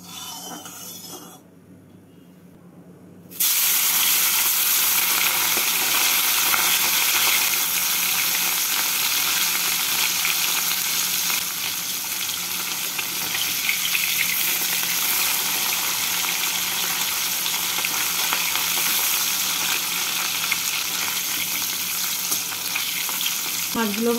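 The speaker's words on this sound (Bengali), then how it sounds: "তেলটাকে ভালো করে গরম করে নিয়ে মাছগুলোকে ভেজে তুলে নেব।" Khoira fish frying in hot mustard oil in a kadai over a gas flame: after a short quiet moment, a loud, dense, continuous sizzle starts and holds steady to the end, with no talking.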